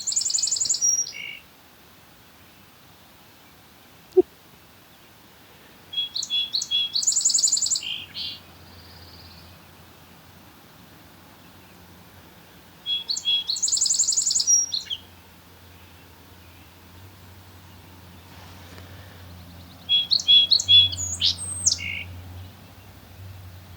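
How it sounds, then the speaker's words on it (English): A very tiny bird sings loud, high-pitched bursts of song by Brown Tract Pond on a foggy camping morning, three or four separate phrases spaced several seconds apart with quiet between them and a faint low hum underneath. "That loud song is coming from a very, very tiny bird."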